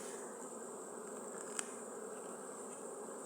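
Honeybees buzz steadily around their hives in an apiary in September, a faint continuous droning hum with no voices.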